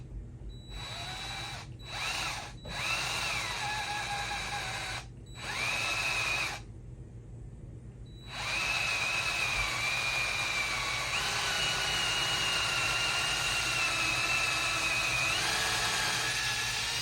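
Cordless power drill boring the second hole in a homemade wedge banger, several high whining bursts separated by short pauses, then one long steady drilling run, close and loud with no talking.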